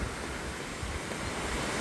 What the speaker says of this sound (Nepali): यहाँ चाहिँ धेरै झरना रहेछ